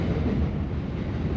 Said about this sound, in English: I want this train to go so I can answer